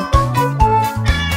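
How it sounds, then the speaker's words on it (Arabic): Musical cat meows in a children's song come as three loud, repeated tonal calls in an even rhythm over the melody. "عنده قطة اسمها شطة، ولدت قطة وقطة وقطة"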